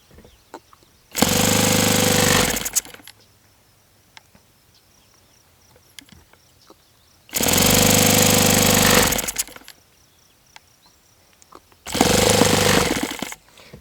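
Saito FA-91S four-stroke model aircraft engine with a compromised fault, firing up in three short bursts of loud, buzzing running, each cutting off abruptly into near silence.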